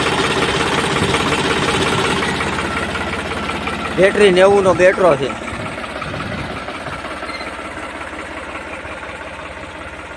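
A used New Holland 3600-2 tractor engine idles with a low steady rumble while someone talks over it nearby, with a short burst of rhythmic knocking midway before the idle settles again.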